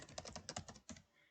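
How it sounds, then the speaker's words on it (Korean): Rapid typing on a computer keyboard, a close burst of crisp, irregular key clicks that trails off after about a second. "타이핑"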